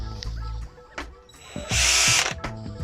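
A power drill whirs in short bursts, with a longer loud high-pitched run in the middle, plus clicking and clattering handling noises nearby.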